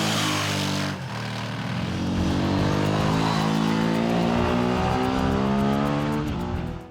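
A Ducati motorcycle engine revs hard, close and loud, holding a steady high-pitched roar that builds after a brief dip and carries on for several seconds with no talk.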